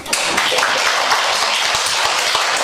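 A church congregation claps steadily throughout a Sunday service, a dense, even patter of many hands filling the room at moderate volume with no pauses.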